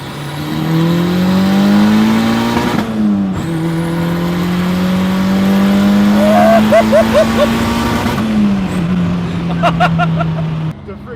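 A turbocharged Honda Civic accelerates hard, heard from inside the cabin, revs climbing steadily with gear shifts around three and eight seconds, while people talk and shout over it.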